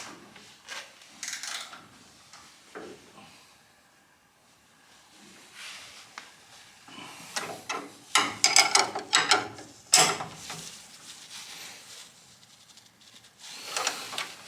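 Bolts being tightened on a motor mount while an engine is installed in an AK, with bursts of ratcheting clicks and metallic clanks from a wrench, close by, loudest in the middle and again toward the end.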